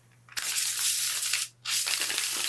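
A close riffle shuffle of a tarot deck gives a dense, rapid rush of flicking card edges, then a short pause, then a second continuous flutter, fairly loud against a faint background hum.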